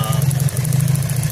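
A car engine idling with a misfire from a sticking fuel injector, a steady close low hum with a slightly uneven pulsing beat and a brief stumble midway.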